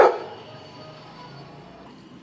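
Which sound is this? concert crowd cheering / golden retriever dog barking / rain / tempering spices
golden retriever dog barking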